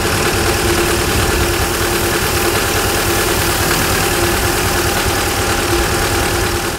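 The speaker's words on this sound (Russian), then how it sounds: "Трактор с навесным опрыскивателем проходит по обочинам и обрабатывает территорию." A tractor carrying a mounted sprayer runs steadily along a roadside treating the ground, its engine giving a loud, continuous, close drone with no pauses or talk.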